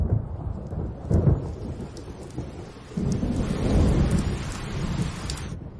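Rain pattering steadily during an ice storm, with rolling thunder rumbling underneath, growing heavier partway through and continuing without voices.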